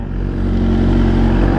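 A 2022 Suzuki Gixxer 1000 (non-R) sportbike engine revving close by, a steady loud mid-pitched drone with a fine rhythmic pulse that swells slightly after the first moment and holds level.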